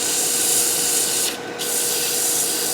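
Steady abrasive sanding on a small hand-carved wooden piece, a close, loud continuous rubbing hiss with one brief dip midway, no voices.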